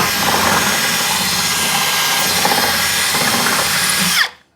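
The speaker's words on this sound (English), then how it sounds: "let's drill a hole through our garage door rail" A power drill bores a hole through a metal garage door rail, a loud, steady high whine held for about four seconds before cutting off abruptly.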